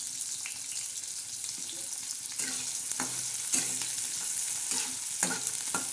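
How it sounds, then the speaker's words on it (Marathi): Onion and tomato tempering sizzles hard in hot oil for a thin fenugreek curry, a constant bright hiss with repeated scraping and clinking strokes of a stirring spoon. "बघा कसा तडका बसतोय."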